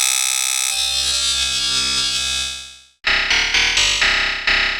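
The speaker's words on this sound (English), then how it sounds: "check out what you can do just dragging a simple sound like this already into Wavetable." A water sound sample is played through Ableton's Wavetable synth as a loud, sustained, buzzy tone with shifting harmonics. It cuts off briefly, then returns as a series of rhythmic, distorted pulses.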